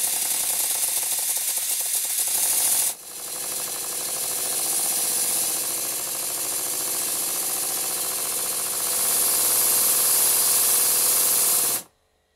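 A Stuart Double 10 model steam engine runs after a valve adjustment, giving off a loud, steady hissing chuff with rapid mechanical ticking that lasts until it cuts off abruptly near the end.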